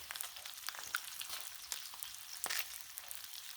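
Thick bacon frying on a Blackstone griddle, a steady hissing sizzle with small pops and crackles, fairly quiet and close, no voices.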